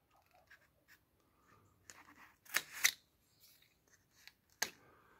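Pruning shears snip the tops off tarragon plants in a few sharp, close clicks with soft rustling of leaves between them, quiet and sparse overall.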